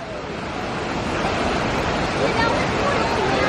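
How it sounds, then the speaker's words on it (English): A giant waterfall pours down into the swimming area of an elephant enclosure at a zoo, a loud, dense, unbroken rush of falling water that swells slightly and holds steady. "They've got a giant waterfall coming down from everything."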